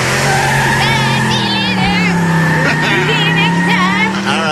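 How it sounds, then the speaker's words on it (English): Car tires screech in a long, loud, sustained squeal that wavers in pitch over a rumbling engine, with voices talking underneath. "I did hear tire screech"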